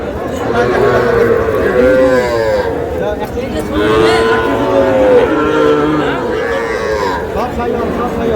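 Sahiwal bull calves moo repeatedly at a crowded cattle market, their loud, drawn-out calls overlapping close by while people talk and bargain in the background.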